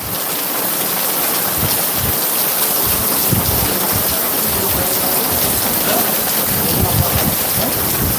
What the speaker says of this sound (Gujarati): ખૂબ સરસ વરસાદ પડી રહ્યો છે